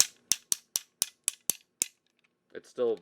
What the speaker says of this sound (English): pretty loud ratchet